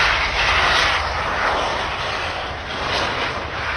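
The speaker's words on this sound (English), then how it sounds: "a FedEx plane slid off the runway in Chattanooga" Aircraft engines of a FedEx plane roar in a loud, continuous broadband rush that swells and eases slightly, with no voices over it.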